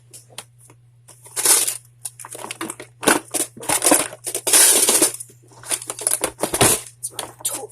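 Hands rummaging through a toolbox, loud close clattering and crunching of tools and small parts knocked about in irregular bursts with brief pauses, over a low steady hum.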